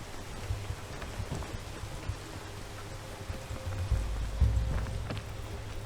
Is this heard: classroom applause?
no